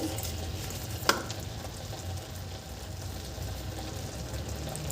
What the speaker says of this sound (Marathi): याला छान परतवायचं आहे आपल्याला